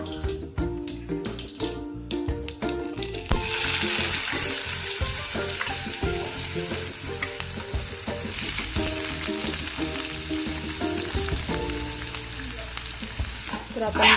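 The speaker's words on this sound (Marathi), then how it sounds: "अशी फोडणी झाली पाहिजे त्यानंतर आता मी याच्यामध्ये घालणार आहे कांदा" Loud, continuous sizzling of onion frying in hot oil, with stirring scrapes throughout; no voices.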